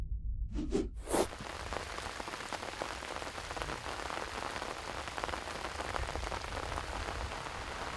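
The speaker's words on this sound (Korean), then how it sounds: "굵은 빗방울이 세차게 떨어지기 시작한다" Heavy rain falls hard on a fishing trip, a dense, steady patter of large drops close by that begins after a couple of brief knocks and continues loudly to the end.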